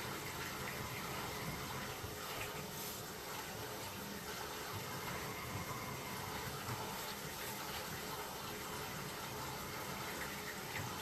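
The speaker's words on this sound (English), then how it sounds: "there is water exiting down the bottom of the pipe, and eventually that will cause that pipe to wash out and sink" Water trickling and gushing steadily through the bottom of an offset underground sewer pipe, a continuous broadband wash that stays fairly faint and even throughout, with no voices.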